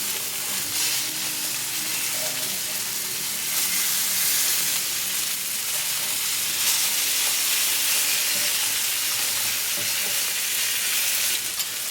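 Tilapia fillets pan frying over a medium flame give off a steady bright sizzle and hiss, close and continuous with slight swells, and no voices.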